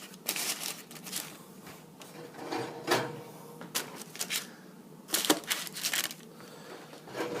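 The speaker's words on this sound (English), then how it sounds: "We're going to put them on parchment." Pieces of homemade chhurpi, a Himalayan hard cheese, set down on parchment paper: scattered crinkles and soft taps at close range, in uneven bursts with quiet gaps.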